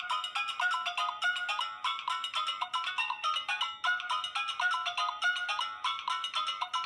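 A phone ringtone from the 2010s plays a bright, repeating electronic melody in short looping phrases, clear and steady, with no talking over it.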